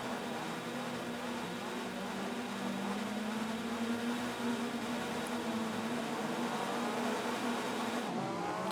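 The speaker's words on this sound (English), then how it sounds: "You hear the engines come to life." Race car engines in the Rennsport racing video game roar continuously at a front-wheel-drive series event on Orchard Road in Singapore, a dense steady wall of engine drone filling the whole stretch with no speech on top.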